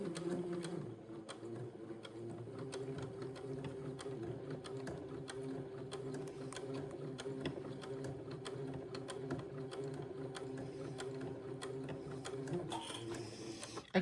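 Close up, a sewing machine stitches a cuff on a boy's Eton suit with a steady, rapid mechanical whir and clatter that runs unbroken for about twelve seconds, then shifts tone briefly near the end.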